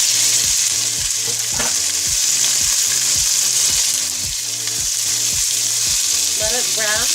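Thin-sliced pork frying in a pan for adobo, a loud continuous sizzle with rhythmic stirring scrapes repeating throughout, close and without talk.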